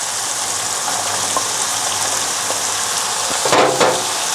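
Onions fry in a pan, giving a steady, fairly loud hiss, with a few soft taps and a brief louder scraping burst of stirring near the end, and no talking.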